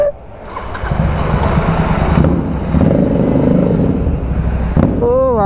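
A Royal Enfield Continental GT 650 motorcycle, just fixed for handlebar wobble after a cone set change, pulls away on a test ride; steady engine drone rises and holds for several seconds, fairly close, with a brief tone near the end.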